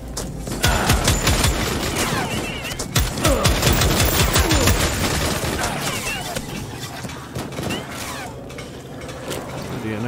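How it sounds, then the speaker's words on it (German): Rapid enemy gunfire in the first-person shooter game 41 Hours, dense bursts and fusillades crackling loudly through most of the stretch, easing slightly toward the end. "die schießen nur ziemlich präzise und schnell"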